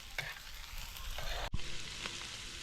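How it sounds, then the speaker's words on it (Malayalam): Onion and shallots sautéing in a pan for a rabbit roast, a faint steady sizzle broken by a spatula scrape and a brief knock midway, no voices. "ഇനി ഇതെല്ലാം ഒന്ന് നന്നായിട്ട് വഴറ്റിയെടുക്കാം നമുക്ക്"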